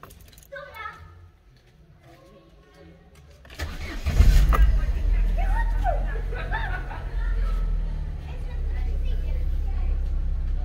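A car's engine is started after a belt tensioner replacement, cranking and catching near the microphone, then idling as a steady, even hum. A person talks briefly before the start.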